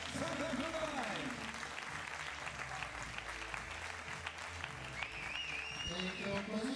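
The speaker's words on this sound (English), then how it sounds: "Really become loud with your hands, feet, or whatever you have right now. Big applause." Applause from the audience at a women's junior 25m pistol shooting competition, steady clapping filling the whole stretch with a faint voice over a loudspeaker running beneath it.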